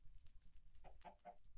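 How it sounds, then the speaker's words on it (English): Minecraft chickens giving a few short, quiet clucks in quick succession, faint and brief in an otherwise quiet game scene. "These chickens are starting to annoy me as well."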